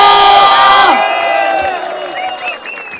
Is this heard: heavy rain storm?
no